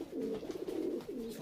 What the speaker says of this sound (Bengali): বন্ধুরা দেখতে পাচ্ছেন এখানে কিছু নড় পায়রা আছে, কালদমা আছে আর টেডি পায়রা আছে।